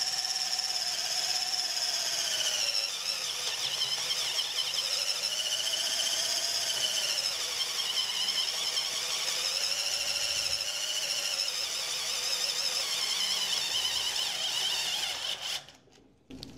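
Cheap 12V Titanium cordless drill whines steadily as a 3/4 flat spade bit bores under pressure, its high motor pitch sagging and recovering under load before cutting off near the end.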